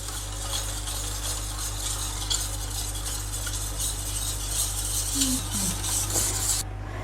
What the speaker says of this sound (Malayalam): ഇനി ഇത് നന്നായിട്ട് മിക്സ് ചെയ്തെടുക്കുക.